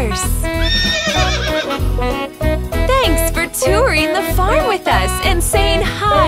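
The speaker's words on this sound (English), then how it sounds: "Horse." A horse whinnies repeatedly over a bouncy, rhythmic musical backing, the neighs rising and falling in pitch.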